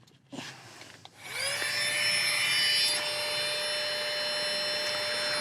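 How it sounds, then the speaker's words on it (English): A Flextail Gear tiny pump inflating a sleeping mat inside a Vango Banshee 300 tent switches on after a couple of soft clicks and runs as a steady, close, high-pitched electric whine with no talk. "I'm using a Flextail Gear tiny pump"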